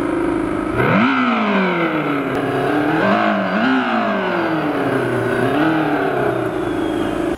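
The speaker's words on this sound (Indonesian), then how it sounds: "kalian bisa memberikan suara seperti yang namanya motor yang reguler ya, suaranya benar-benar gede dari speakernya" Simulated motorcycle engine sound played loud from the built-in speaker of a United T1800 electric motorcycle: a throaty engine tone that revs up and falls back in several rising and falling surges, close and continuous.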